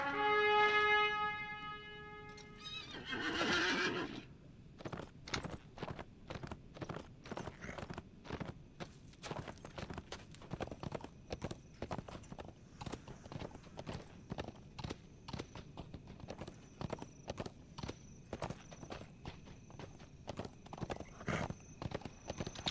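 A horse in Lord of the Rings Online gives a tonal neigh at the start, then its hooves clop in a steady, close rhythm that runs to the end with no talk.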